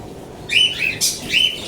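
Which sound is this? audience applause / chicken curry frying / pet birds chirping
pet birds chirping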